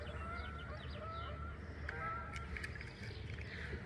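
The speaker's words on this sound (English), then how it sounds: "Hear the geese going over." Faint honking of geese passing overhead above a backyard pond, repeated calls over a steady outdoor background rumble with a few bird chirps.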